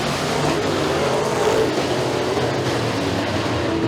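Race cars run a heat race at Stateline Speedway, a dense continuous roar of several engines revving together, loud and steady with no gaps.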